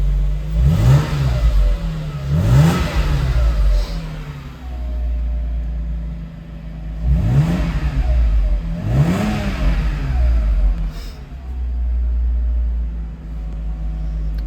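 A 1995 Mercedes G-Wagon G320 engine, heard from inside the cab, idles with a deep low rumble and rises in two pairs of quick revs that swell and fall back to idle.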